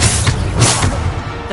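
The Bombarda explosive spell goes off in Hogwarts Legacy as a loud, dense burst of rumbling blast noise that holds steady for about a second and a half.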